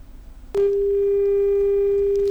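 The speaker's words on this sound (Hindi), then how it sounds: "फ़ोन कट गया है।" After a brief click, a steady telephone dial tone sounds loud and continuous once a phone call disconnects, with no talk over it.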